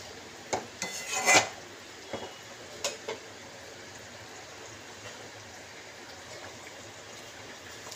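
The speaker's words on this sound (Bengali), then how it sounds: "তো এটাকে এবার একটু নাড়িয়ে দেবো" A spoon scrapes and knocks against a pan while garam masala is stirred in, with a cluster of sharp metallic scrapes and clinks early on, then a few scattered taps over a quiet background.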